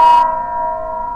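A synthesized doorbell-like chime from a Sandstorm synthesizer: one bright, sustained bell tone with a sharp onset that rings steadily and loud for over a second, with no voices.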